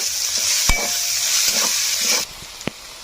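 Masala paste with a little salt and turmeric frying and being stirred in a pan, a steady close sizzle with scraping spoon strokes, easing off near the end with one sharp knock, for a village-style Kadaknath chicken curry.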